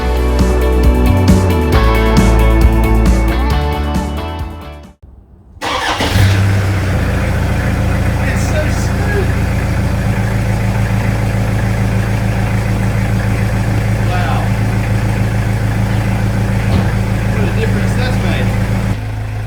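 A car engine is heard running after engine mount replacement, with rhythmic tones that break off, then the engine starts and settles into a steady, close idle for the rest of the time.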